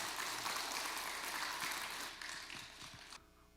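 An audience at a Buddhist college special lecture applauds to welcome poet Ahn Do-hyun, a faint, distant, steady patter that thins out and stops near the end.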